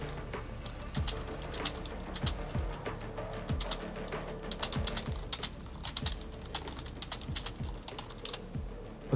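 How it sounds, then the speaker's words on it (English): Typing on a computer keyboard during a break in a Valorant gaming session, a steady run of soft clicks fairly close by, with faint bird cooing in the background and no talk. "so does that mean you can hear my keyboard when I type?"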